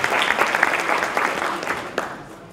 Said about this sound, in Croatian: I sad molim jedan aplauz za asistente i pomagače.